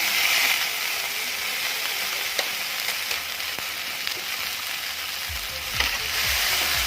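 Celery sizzles and hisses steadily in a hot pan with a little water added to keep it from burning, close and constant with occasional scrapes of stirring and a low rumble near the end.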